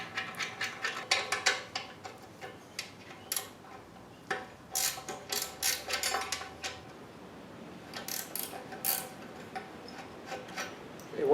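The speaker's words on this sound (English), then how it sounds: "take two 9/16 wrenches and remove the bolts" Two 9/16 wrenches working the pin lock bolts on a Rhino 85 backhoe bucket: irregular bursts of quick metallic ratcheting clicks and taps, fairly faint, with short pauses between runs.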